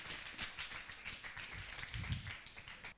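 A church congregation claps in acclamation to Jesus, quick overlapping hand claps in an irregular, lively patter, fairly faint and without talk.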